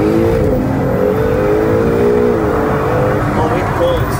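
A rebuilt 2017 Acura NSX engine revs loudly and continuously in its loud exhaust mode, its throaty roar rising and holding steady with a rough, rumbling edge throughout.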